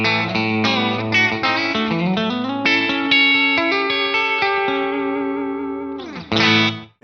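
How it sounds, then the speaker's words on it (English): An electric guitar runs through a Space Echo set for slapback, playing a string of clean, sustained notes, each with a short, tight repeat. It rings loud and alone before ending in a brief strummed burst. "we'll switch on the Space Echo, which we've got set for like a slapback sound"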